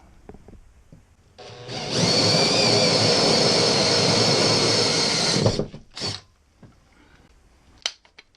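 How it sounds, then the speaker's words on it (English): A power drill bores a hole through a wall for a dual mini split installation, a steady, loud whining grind lasting about four seconds, then a few short bursts and faint knocks, with no talk. "Here's my spotter hole that I drilled to the other side."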